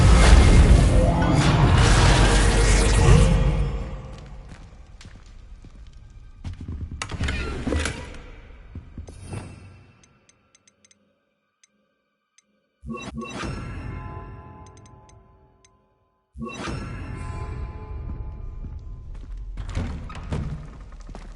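The Reparo spell in Hogwarts Legacy mends broken armor, heard as several heavy magical whooshing and clanking bursts separated by quiet gaps, each swelling loudly and then fading.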